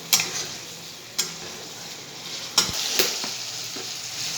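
Tomatoes with a little ginger paste frying in a pan, a steady soft sizzle broken by a few sharp clicks of a stirring spoon against the pan.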